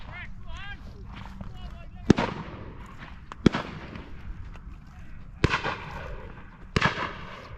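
Shotguns fire at driven pheasants on a Wiltshire shoot, four sharp, booming reports spaced a second or two apart, each with a short echo, while people talk quietly between the shots.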